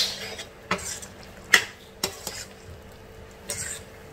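Fresh cream being stirred into a soybean curry in a pan, heard as intermittent spoon clinks and scrapes against the metal over a faint low sizzle.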